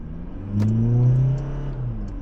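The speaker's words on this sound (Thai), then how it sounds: "ไปดูซิว่าตัวเริ่มต้นตัวนี้กับล้อ17 0ถึง100 ได้กี่ วินาที" A Toyota Fortuner 2.4 diesel SUV on 17-inch wheels, with a six-speed automatic, accelerates hard from a standstill. The engine note rises into a loud, close, steady drone with a low rumble, swells, then holds as it pulls.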